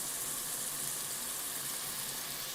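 Garlic paste sizzles in a pot of vegetable soup base, a steady, close, bright hiss of frying that holds evenly throughout with no talking.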